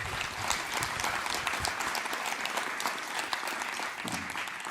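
Sustained applause from a concert audience at a hip hop show, a thick wash of clapping that stays even and fairly close for nearly five seconds.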